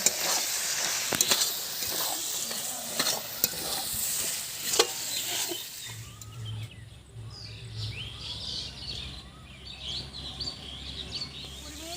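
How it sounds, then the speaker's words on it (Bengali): Goat tripe with meat masala being stir-fried, a crackling sizzle with sharp spatula clicks for the first half, then quieter cooking with faint bird chirps in the background. "এবার 20 মিনিট ধরে কষিয়ে নেব মাংসটা"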